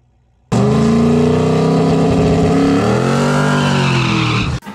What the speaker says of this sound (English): I did both tires, nice burnout right now.